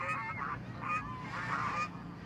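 Waterfowl being fed near a fishing spot honk repeatedly in loud, overlapping calls, a nearby flock sounding off in quick bursts over a constant outdoor hum.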